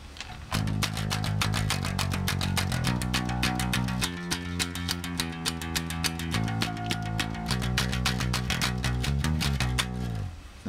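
A flatwound-strung bass guitar picked in fast, even eighth notes, with each attack sharp and percussive; loud and close, changing pitch every few seconds, no voices over it.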